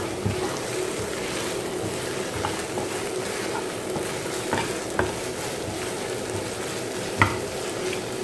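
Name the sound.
onions sautéing in a pan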